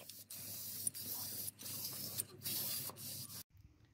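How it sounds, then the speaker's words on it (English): Aerosol spray paint applied to the rear springs of a Rover 45 in short hissing bursts, several close bursts broken by brief pauses, ending abruptly. "we've sprayed the springs here at the back just to tidy them up"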